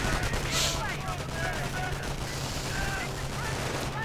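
Gunfire crackles through a World War II-style real-time strategy battle in a 1v1 match, a dense, continuous clatter of distant small-arms and machine-gun bursts with faint booms, running steadily under a commentator's talk.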